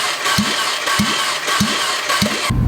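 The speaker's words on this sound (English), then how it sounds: "the engine will freely spin and you'll hear a whirring sound" Fiat MultiAir engine cranking without starting, the starter spinning it freely in an even whir with four regular low thumps about every half second, loud and close, with no talking.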